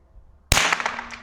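A rifle shot strikes a steel long-range gong target at 100 meters: a single sharp, loud crack bursts out of near silence, then a brief metallic ring fades away.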